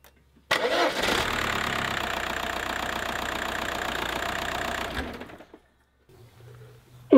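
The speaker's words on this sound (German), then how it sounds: "starte den Motor und mache eine volle Lenkung nach links und mache den Motor sofort wieder aus" A VW Passat engine cranks and catches, then idles steadily for about four seconds with the steering turned fully left during a power steering fluid change, before being switched off, leaving near silence with a faint hum afterward.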